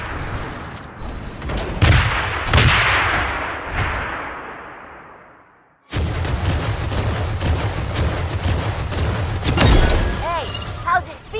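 Gunfire in the mecha battle game Super Mecha Champions: loud bursts and booming shots, a fading blast, then rapid repeated firing with impacts, mixed with game effects and someone talking.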